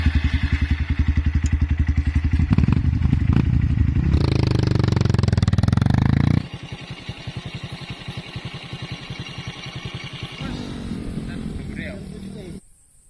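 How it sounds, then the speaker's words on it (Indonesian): A motorcycle climbing a rough mountain road on the slopes of Mount Arjuna, its engine loud and close with throttle rising and falling, bumps and clatter over rough ground, and a voice heard over it. "Pakai motor khusus ya, karena jalannya agak susah untuk dilewatin."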